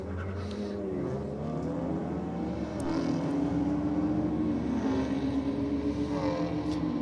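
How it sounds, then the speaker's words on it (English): BMW race car accelerating hard down a drag strip against a Golf, a sustained engine roar with rising pitch, fairly loud and continuous with no talk over it. "the BMW has a very unique sound to it"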